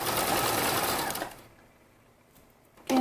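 A sewing machine runs a long basting stitch along the raw edges of a dress collar, a loud, steady close-up whir that winds down to near silence before briefly starting again.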